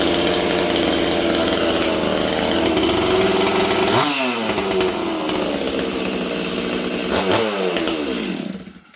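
Stihl 026 chainsaw runs loud and close on fast idle with a steady rasping drone, with two brief revving blips before it dies away at the end.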